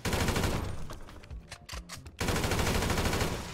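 Rapid automatic gunfire in GTA 5, loud bursts of shots with a brief lull in the middle before the dense firing resumes.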